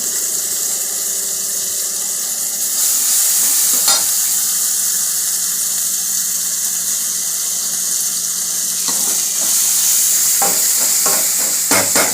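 Tomatoes sautéing in a pan for Tamil-style egg gravy, a steady close sizzle with occasional scraping stir strokes and a few sharper clinks toward the end, no talking.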